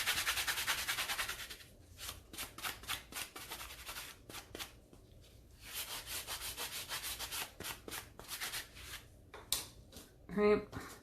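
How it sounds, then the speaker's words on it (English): Acrylic blanks set in epoxy are sanded by hand in bursts of rough, raspy rubbing strokes, close to the microphone, with short pauses between passes and a brief clatter near the end. "I'm going to sand both pieces."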